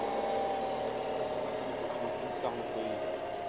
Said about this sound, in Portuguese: O amigo vai dar partida aqui no motor para a gente escutar o carro funcionando.